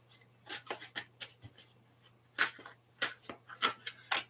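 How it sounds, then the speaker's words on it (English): A deck of tarot cards shuffled by hand, giving a series of short riffling, rubbing bursts in an uneven rhythm, close and fairly quiet, with no talking. "So I'm going to give you a little shuffle of my cards."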